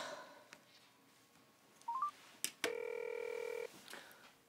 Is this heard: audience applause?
no